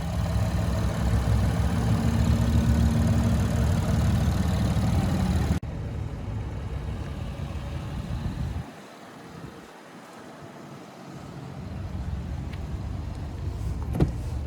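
A 2022 Chevrolet Blazer RS with a 3.6-liter naturally aspirated V6 idles steadily, a low engine drone heard up close that shifts abruptly to a quieter, more distant tone partway through.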